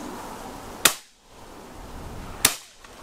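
Two loud, sharp shotgun blasts at a pigeon during a decoying shoot in an open field, each a sudden crack with a short decaying tail, about one and a half seconds apart, with quiet outdoor ambience between.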